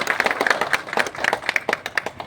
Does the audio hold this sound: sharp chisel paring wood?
no